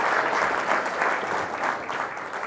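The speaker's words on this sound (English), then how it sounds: "Thank you for clapping at that video." Steady applause from a conference audience fills the room, a dense, even wash of many hands clapping at moderate distance, with no voices over it.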